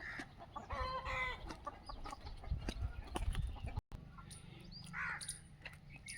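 Several desi chickens clucking and squawking close by on a poultry farm of about 350 birds, with a rooster call and busy farmyard noise throughout.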